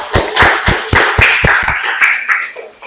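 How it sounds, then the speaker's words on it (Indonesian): An audience in a classroom gives a group presentation a round of applause: a handful of close, loud, sharp hand claps in a quick uneven rhythm, thinning and fading toward the end. "tepuk tangan untuk kelompok 1."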